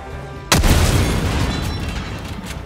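A heavy Eruptor explosive gun blast from the shooter game Helldivers 2, one sharp loud boom at the start that rolls into a long rumbling decay of debris and echo with no voices.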